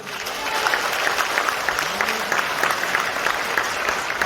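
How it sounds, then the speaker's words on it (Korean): An audience at a 2022 People Power Party members' training event at the Gumi civil defense education center applauds with steady, sustained clapping that fills the room without letup. "다시 한번 뜨거운 박수 보내주십시오"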